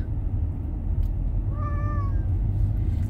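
A cat meows from inside a large cat carrier in a moving car, one drawn-out wavering cry in the middle over steady road rumble.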